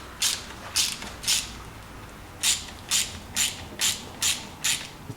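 A hand ratchet clicks in quick bursts as a prevailing torque nut is tightened on the carburetor linkage of a 115 Mercury outboard, three strokes, a pause, then six more, sharp and close.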